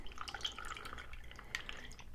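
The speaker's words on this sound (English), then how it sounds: "We're simply going to pour that over fresh ice and our light up ice cube." Cocktail mix for an Aulani Sunrise poured over fresh ice and a light-up ice cube in a glass, with soft close dripping and splashing and a few small ice clinks, no talk.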